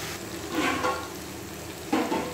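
A meat spice mixture heats in a pan, giving a soft, steady sizzle with two brief louder bursts of stirring and frying, heard close up with no talking.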